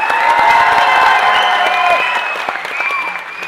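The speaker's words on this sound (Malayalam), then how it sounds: "കൈയടി പോരാ" A live audience at a stand-up comedy show breaks into loud, sustained applause with scattered cheers and whoops, the clapping staying dense throughout and easing slightly toward the end.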